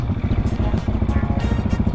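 A 2017 KTM 701 Enduro in supermoto trim idles close by, its single-cylinder engine producing a steady, loud, lumpy thump with a rapid even pulse and mechanical clatter throughout.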